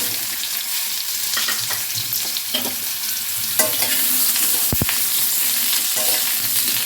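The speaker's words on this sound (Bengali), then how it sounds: "এরপর আমি আলুগুলো দিয়ে দিলাম।" Potatoes go into hot oil already seasoned with green chilies for a sweet, sour and spicy potato curry, and they sizzle loudly and steadily close up while a spoon scrapes and stirs them, with a couple of sharp knocks.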